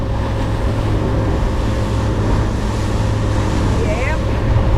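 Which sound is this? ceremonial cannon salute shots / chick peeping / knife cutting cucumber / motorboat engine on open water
motorboat engine on open water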